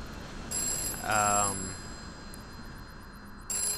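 A telephone rings inside a video game, a bright electronic trill repeating in short bursts with a tonal chime between them, close and clear, with no talk over it.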